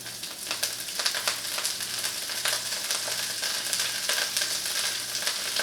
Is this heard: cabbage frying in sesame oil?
yes